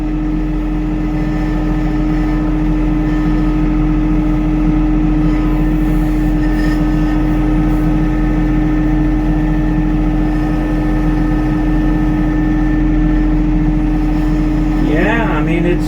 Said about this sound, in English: I got a couple 100 pounds in that bucket, and I'm driving the tractor